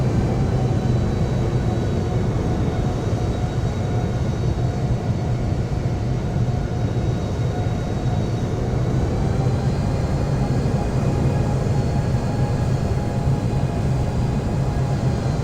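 Airliner taking off from Heathrow in the Infinite Flight simulator, a constant loud engine roar and rumble holding steady throughout with no break.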